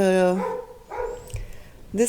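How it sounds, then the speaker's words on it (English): A dog barks a couple of times in a domestic setting, fairly close, mixed in with a person talking over it. "Excuse the dog barking."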